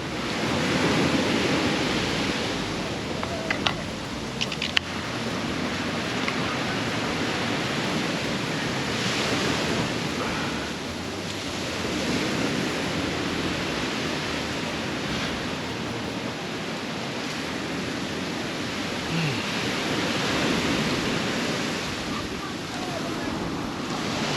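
Surf washes steadily onto a clean Jamaican beach, a continuous broadband roar of breaking waves with light wind buffeting the microphone and no speech over it.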